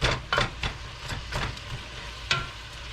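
Southern-style smothered cabbage with spices sizzles in a pot, a steady close frying hiss broken by sharp scraping stirs and clanks, with no talking.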